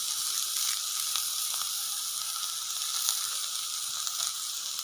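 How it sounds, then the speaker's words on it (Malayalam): Curry leaves sizzle in hot oil for a tapioca dish, a steady bright crackling hiss with scattered pops, close and continuous, with no voices over it. "കറിവേപ്പില ഇട്ട് കൊടുക്കാം കേട്ടോ."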